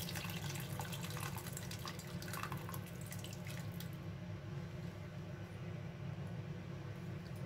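Tamarind water pours into a pot of avaraikkai kulambu, a flat-bean curry, making a steady splashing, gurgling flow for about four seconds before settling into a softer, quieter liquid background.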